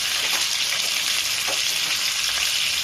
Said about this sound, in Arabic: هنزل بالبهارات بتاعتنا، فصين كده من الحبهان.